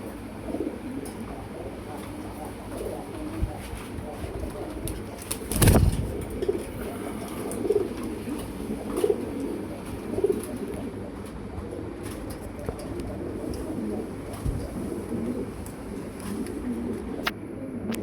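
Lahori pigeons coo softly in a pigeon farm, giving low murmuring calls under a busy background hum that has faint engine and traffic noise. There is one sharp knock partway through.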